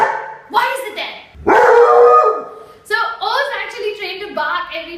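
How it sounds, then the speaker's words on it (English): A trained dog barks close by in a series of short, loud barks and yips spread across a few seconds. "So Oz actually trained to bark"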